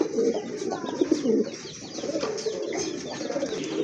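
Pigeons from a pair kept for sale coo in soft, repeated bursts close by, with no speech over them.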